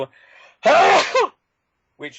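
A single sharp sneeze bursts out, preceded by a short breathy intake and followed by a brief spoken reply nearby.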